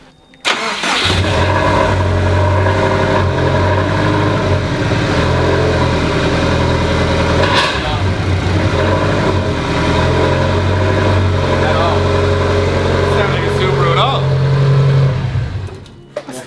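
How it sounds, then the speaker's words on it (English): Subaru Impreza with an equal length manifold, tuned past 500 bhp, running steadily and loudly with a throaty, uneven burble that holds for about fifteen seconds before cutting off. "That doesn't sound like any Subaru I've heard before"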